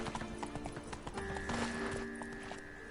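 Roach, the horse in The Witcher 3, trots with quick, rhythmic clip-clop hoofbeats close by, joined by a brief tonal whinny-like sound partway through.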